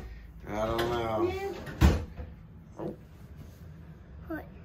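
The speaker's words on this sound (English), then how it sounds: "the drawers are child locked for a reason, sir." A child tugs at child-locked drawers, giving one sharp clunk and a couple of fainter knocks while people talk nearby.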